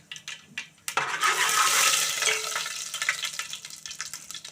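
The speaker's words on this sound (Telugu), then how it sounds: "బాగా వేయించుకుందామండి" Fenugreek seeds hitting hot oil in a pan, a quiet start followed by a sudden loud burst of sizzling that settles into steady crackling and popping, close up with no talking.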